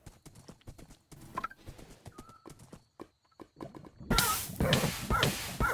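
Hooves clip-clop in a quick, regular rhythm as a horse moves in Minecraft, punctuated by a brief whinny, with the sound growing louder and denser in the final seconds.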